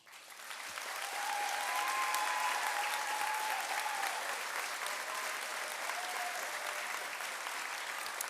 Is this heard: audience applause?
yes